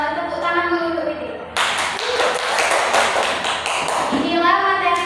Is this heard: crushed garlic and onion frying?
no